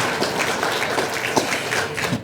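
Applause at an annual chamber of commerce awards banquet, an uneven patter of hands with a few louder individual claps and thuds standing out, moderately close and without talk over it.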